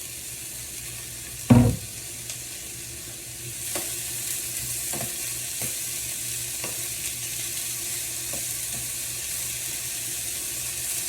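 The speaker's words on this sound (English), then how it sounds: "I'm gonna go ahead on and I'm gonna add my vegetables to the pan." Vegetables tipped into a hot pan of yellow rice cooking with chicken shish kebab, giving a sharp clatter as they land, then a steady sizzle with soft scraping stirs recurring throughout.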